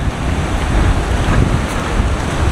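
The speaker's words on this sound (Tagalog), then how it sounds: "pangatlong malakas ang agos na tinawid namin." Strong river current rushes steadily during a guided crossing near Ar-arbis curtain falls in Abra, with a dense, continuous roar of water mixed with wind buffeting the microphone.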